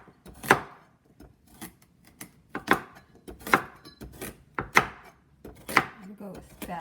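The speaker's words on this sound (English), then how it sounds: "And I'm just slicing these carrots up." A knife chops through carrots on a cutting board for vegan lentil bean soup, giving about eight sharp, close cuts at an irregular, unhurried pace.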